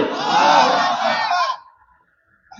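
A large crowd at an outdoor Islamic sermon gathering shouts a loud unified chant in response to a takbir call, a single sustained roar that fades out after about a second and a half.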